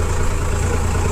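A farm tractor engine idles or runs with a steady, low, throbbing drone, close and unbroken for a short moment, with no voices.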